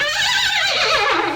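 A horse whinnies continuously and loudly for the whole moment, a bright, wavering neigh filling the space with no voices over it.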